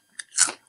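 A single crisp crunch from biting into Herr's wavy cheese pizza potato chips, close and brief, with a small click just before it.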